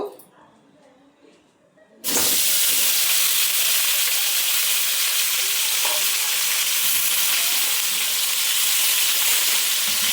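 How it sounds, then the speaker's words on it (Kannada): Tomatoes dropped into hot oil in a pan for chutney set off a loud, steady sizzle after a short quiet stretch, frying continuously and close up. "ಚೆನ್ನಾಗಿ ಫ್ರೈ ಮಾಡಬೇಕು."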